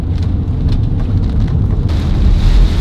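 Big hail pounding down during an August wedge tornado storm in Illinois, a dense, continuous clatter of hard impacts over a loud, steady roar of wind and rain.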